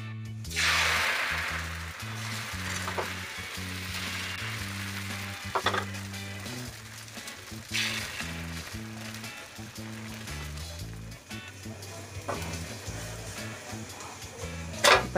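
Rice flour chila fries on a hot nonstick tawa with little oil, giving a soft, steady sizzle that sits under background music with a rhythmic low tune.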